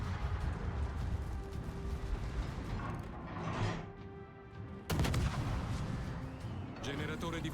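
Naval shells fired from the Italian cruiser Regolo in World of Warships, a heavy booming salvo over mechanical turret and ship noise, with one sharp loud blast partway through.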